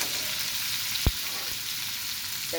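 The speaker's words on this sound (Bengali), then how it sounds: "এই চিংড়ি মাছটা রান্না করতেছি সরিষার তেলে" Giant freshwater prawns fry in mustard oil with a dense, even sizzle close by, broken by a single sharp knock about a second in.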